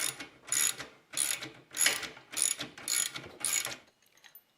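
Ratchet wrench tightening a bolt on a tow-behind lawn aerator during assembly, seven evenly spaced bursts of close, crisp clicking, then a quiet pause.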